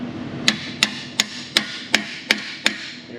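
A hammer drives a heated part into place on a 2012 Chevrolet Avalanche 5.3 4x4, seven sharp metallic strikes in an even, quick rhythm, close and loud over a low background hum.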